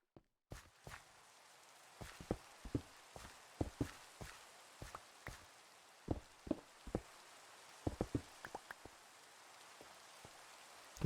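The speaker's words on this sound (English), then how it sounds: "There's the rain." Rain in a video game falls as sparse, irregular drops and taps at low volume, scattered over a quiet background.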